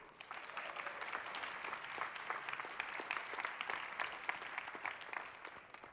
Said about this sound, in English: now give your huge round of applause for both our judges and our finalists